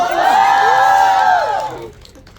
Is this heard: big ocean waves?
no